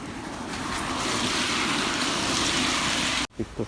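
Flood water in Japan rushes in a loud, continuous roar with heavy wind buffeting, steady for several seconds before cutting off abruptly into a few faint thumps.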